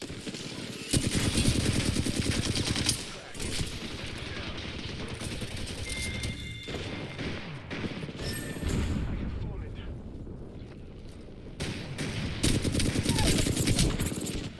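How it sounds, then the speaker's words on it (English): Rapid gunfire bursts from the Apex Legends battle game rattle through most of the stretch, dense and loud with brief lulls, while a voice talks over the shooting. "Shots fired"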